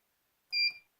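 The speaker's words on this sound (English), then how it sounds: "I'll push the band button. It beeps once." A single short electronic beep from an FPV video receiver right after its band button is pressed, a clear tonal bleep standing alone in silence.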